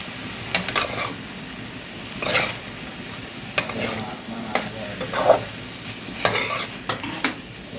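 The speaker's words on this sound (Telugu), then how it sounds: "ఇప్పుడు ఇది రెండు కూడా బాగా కలపాలి" Boiled yardlong bean pieces and potatoes get stirred in a pan with a quiet sizzle underneath and a few sharp metal scrapes and clinks of the spoon against the pan, spaced a second or two apart.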